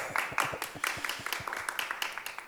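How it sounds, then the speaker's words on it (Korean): A short burst of applause at a card company recruitment presentation, many hands clapping at a steady patter for a couple of seconds, moderately loud and fairly close. "우리 큰 박수로 한번 시작해 보도록 하겠습니다."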